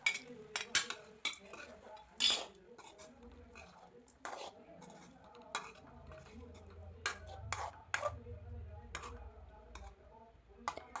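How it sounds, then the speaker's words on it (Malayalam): A utensil stirs a Kerala-style banana flower and green gram stir-fry in a pan, giving irregular scraping clinks and taps at close range, with quiet talk in between. "എല്ലാം ചേർത്ത് കൊടുത്തതിന് ശേഷം വാഴക്കൂമ്പും ചെറുപയറും കൂടെ നന്നായിട്ടൊന്ന് മിക്സ് ചെയ്യാം"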